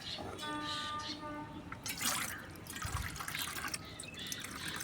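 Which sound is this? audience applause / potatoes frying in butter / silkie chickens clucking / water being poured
water being poured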